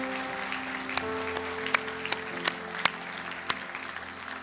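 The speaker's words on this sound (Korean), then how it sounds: "우리 하나님께 다시 한번 큰 박수로 영광 돌리겠습니다" Church congregation clapping during a Sunday worship service, a moderate wash of applause with a few sharper distinct claps standing out, while a sustained organ-like tone hums underneath.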